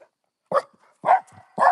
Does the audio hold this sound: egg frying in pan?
no